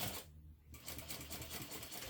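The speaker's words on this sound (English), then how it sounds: "so now I just sewed the two exterior parts together" A domestic sewing machine hums and clatters rapidly while stitching two exterior pieces of a fabric clutch bag together, with a short pause near the start before the motor runs on steadily, close and alone.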